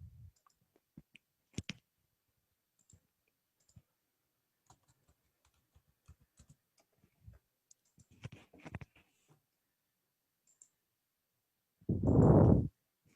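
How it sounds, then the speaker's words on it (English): Sparse, sharp clicks from a computer mouse on a student portal, scattered singly and in small clusters across quiet, with a short louder rumble near the end. "Then you click on the button report for term."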